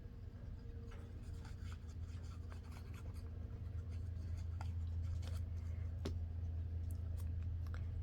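A pen writing a short message on a small craft tag made from a file folder, heard as faint scratchy strokes and taps over a steady low hum, close and quiet, with no talk.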